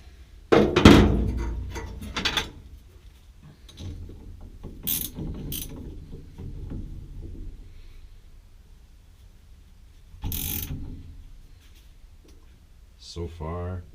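A homemade threaded puller is turned and tightened on the steering of a Mercury M700 truck, with clicking, ratcheting metal turns and a few clunks at irregular intervals, close by.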